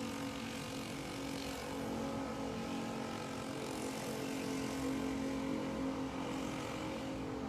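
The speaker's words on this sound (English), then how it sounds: "It might have been the tow truck down there." A tow truck engine runs nearby with a steady, droning hum and a constant low rumble, holding level throughout with no talking.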